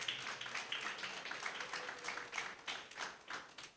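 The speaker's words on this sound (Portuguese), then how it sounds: "Aplauda Jesus, o Rei da Glória." A congregation at an apostolic church service applauds in worship, a steady wash of clapping at moderate distance with rhythmic pulses, faint and continuous.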